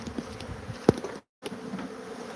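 A swarm of killer bees pouring out of a nest on a ranch gives off a close, continuous buzz that briefly cuts out for a moment before returning.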